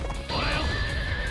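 A horse neighs in the Warriors Orochi 4 Ultimate video game, a loud, close whinny that rises and then holds a long, wavering cry over game background noise.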